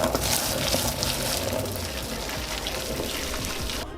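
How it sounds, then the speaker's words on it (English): Three gallons of boiling water poured from a container into a plastic tote, a continuous rushing, splashing wash that holds steady for several seconds before cutting off abruptly. "now we can grab our tote and we can pour all 3 gallons of our boiling water in"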